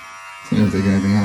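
Fadify 2.0 electric hair clippers switch on halfway through and run with a steady, loud buzzing hum from that point on.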